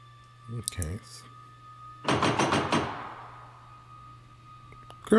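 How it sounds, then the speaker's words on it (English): A sharp burst of loud knocking on a door in a Korean TV drama, a rapid cluster of hard thuds lasting under a second, preceded by brief speech and followed by quieter room sound. "That knocking is loud as all Hades."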